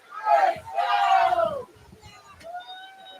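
A football crowd roars loudly at a homecoming college game between Earlham and Madrid after a first down, two big swells of cheering and shouting, then a quieter stretch with a whistle-like tone.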